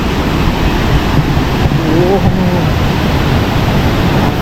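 Water rushing at Abbi waterfall near Madikeri during heavy rain, a steady broadband roar filling the scene throughout, with a brief exclamation from a voice.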